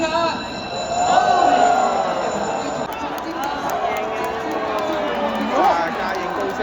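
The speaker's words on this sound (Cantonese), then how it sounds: "歡呼聲啊！" Crowd roar at a Hong Kong horse race as horses run: a broad, sustained wash of cheering from many spectators, with nearby voices shouting and talking over it and the noise swelling and shifting throughout.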